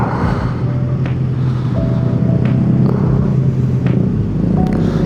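A motorcycle engine rumbles steadily while riding through city traffic, a close continuous drone with faint higher whines and tones from surrounding vehicles.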